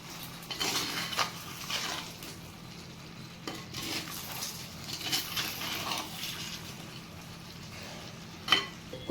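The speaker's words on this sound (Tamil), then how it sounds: "கிளறி விட்டுருவோம்." A mixed vegetable masala is stirred in a pan, a steady scraping and sizzling with soft clatters of the spoon against the metal, close and continuous, no talking.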